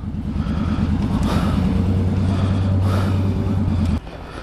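The engine of a 2003 Yamaha Drag Star 650 motorcycle idles loudly and close with a steady low rumble, then cuts off abruptly near the end.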